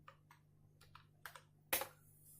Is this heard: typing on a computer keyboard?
yes